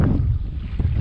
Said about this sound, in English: It's just windy as all get out